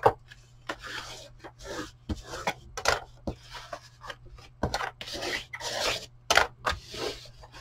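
Scored paper craft panels being folded in and creased by hand, a run of soft rubbing and crisp scraping strokes, close and irregular, with no one talking.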